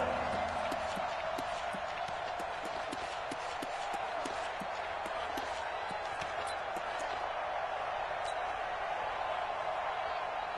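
Football stadium crowd cheering, a constant loud roar of massed voices with scattered sharp thuds and claps rising out of it, keeping up throughout.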